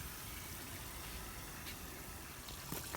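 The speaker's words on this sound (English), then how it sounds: "Filling up the reservoir." Water pouring steadily into the reservoir of a backyard pondless waterfall under construction, a continuous close rushing and gurgling wash with no pauses.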